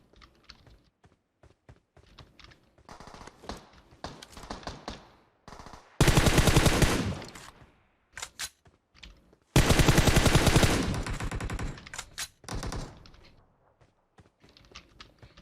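Automatic gunfire in a competitive shooter video game, Midstein, heard as sharp clicky shots and two long loud bursts of rapid fire between quieter gaps, no voices.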